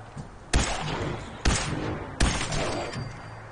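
Rifle gunfire in the video game Fallout 4 comes as three loud, sharp shots spaced unevenly about a second apart, each followed by a lingering rumbling tail, with no talk.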